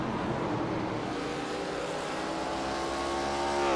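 Pro Cup Series stock cars race at Richmond, their engines a steady, continuous roar with rising harmonic whine as the pack runs through, no talk heard.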